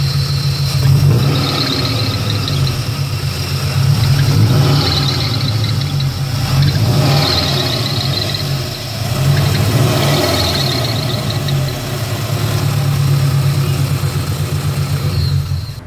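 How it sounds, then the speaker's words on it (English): A Subaru BRZ engine idling and revving gently while a repeated high squeak chirps over the steady mid-range hum, close and loud throughout. "I started getting a squeaking sound out of the car"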